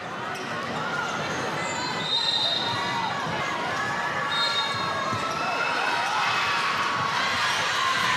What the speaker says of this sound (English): the crowd really is building up here now